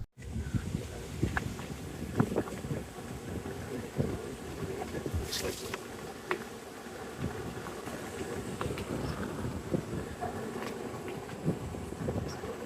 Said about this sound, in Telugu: అసలు గాలి ఏమో ఇరగేసేస్తుంది మామూలుగా వేయట్లేదు